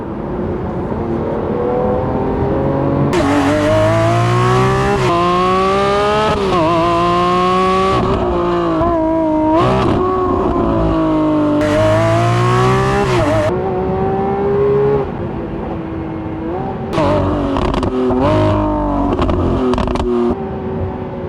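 A Lamborghini Aventador Ultimae V12 in Corsa mode revs hard again and again, each loud rising howl climbing toward its 8,700 rpm limiter before dropping back, the sweeps close and continuous with no talking.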